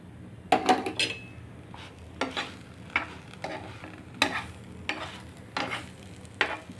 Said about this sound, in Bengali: আমি আবার আধা চামচ ঘি দিয়ে এটা ভালো করে ভেজে নিব।